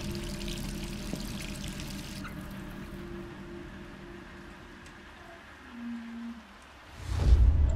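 Water runs steadily from a tap in the Resident Evil 3 video game, a quiet continuous pour with a brief tonal blip near the end before a louder burst at the close.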